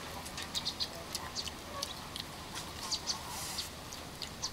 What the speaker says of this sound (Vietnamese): Có tiếng chim kêu nữa nè.